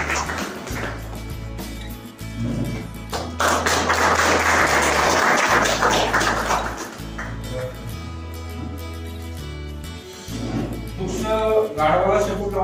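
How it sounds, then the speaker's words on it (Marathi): An audience applauds a prize winner at a de-addiction centre's competition event, the clapping surging in bursts over a loud, steady low musical drone with beats, with pauses between the louder patches. "सगळे टाळ्या वाजवायच्या"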